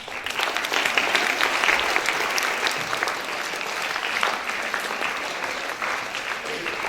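Audience applause at a National Librarian Day event, a dense steady wash of many hands clapping that holds for about seven seconds without fading.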